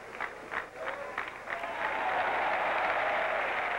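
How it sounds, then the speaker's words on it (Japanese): Applause from a large crowd at a 1982 Asian Games women's team gymnastics competition starts as scattered distinct claps and swells into a dense, steady ovation filling the arena. "惜しみなく拍手を送りまして、"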